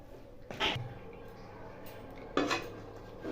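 A dough of flour being stirred in a pan gives two brief, close metallic scrapes and knocks of a utensil against the pan, separated by quieter gaps.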